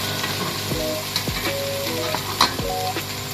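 Garlic and onion fry in a pan for nargisi kofta, giving a steady close sizzle broken by sharp metallic scrapes and clinks of stirring, with no voices.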